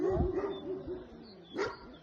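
A Kangal or Black Sea mountain dog gives a short bark near the start and another sharper yelp later, close by, with quieter whining tones between.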